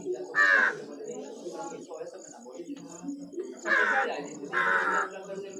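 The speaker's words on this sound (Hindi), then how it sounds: "देखिए काऊ, ये जो कौआ है" A crow caws several times, sharp harsh calls near the start and a pair close together near the end, heard over a person talking at a moderate distance.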